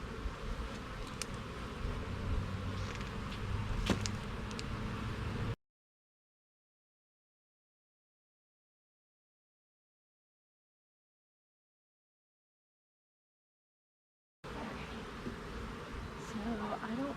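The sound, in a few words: honey bees buzzing around hive during queen rearing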